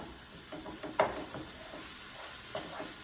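Beef browning in a hot pan for beef stuffing with apples and cranberries, a low steady sizzle with a few soft scraping stirs and one brief clink, close and fairly quiet, no talking.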